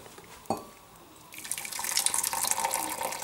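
Cooking water poured off boiled lentils into a sink: a brief knock, then a steady, fairly loud hissing rush of draining liquid for the last two seconds, with no voices.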